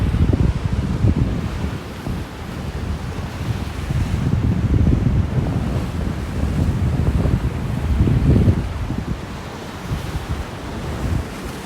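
Ocean surf crashing over a sea wall on a rocky coast, heavy rolling roar of breaking waves swelling and easing continuously, with wind buffeting the microphone throughout; no talking.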